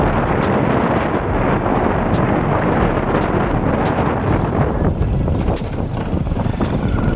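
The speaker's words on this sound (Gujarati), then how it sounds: "પવન બહુ આવે છે મિત્રો, દરિયાકાંઠો છે ને એટલે." Strong seaside wind near Dwarka buffets the microphone in a loud, continuous roar with gusty rumbling throughout and no voices.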